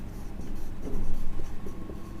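Marker or chalk scraping across a board during a chemistry lecture on aldehydes, a steady, close, moderately loud scratchy stroking with no voices over it.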